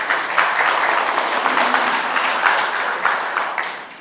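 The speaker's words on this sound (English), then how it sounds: "didn't mean to shortchange your applause" Brief burst of audience applause for county freeholders at a Medal of Honor ceremony, a dense, moderately loud round of clapping that tapers off after about four seconds.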